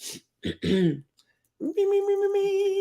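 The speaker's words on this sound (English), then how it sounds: "Clear your throat." A person clears their throat in a couple of short, rough bursts, then hums a sustained tone.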